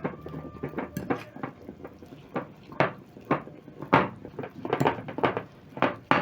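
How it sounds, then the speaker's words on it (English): Raw sausage meat being worked with a fork to blend in seasoning, giving a busy run of quick clinks and taps of the fork against the bowl, close and fairly loud. "So I'm going to take a fork and mix up my seasoning into my sausages."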